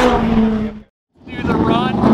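A McLaren 620R on a racing circuit roars loudly, its engine note cutting out briefly in a short gap before surging back with rising pitch, close and strong.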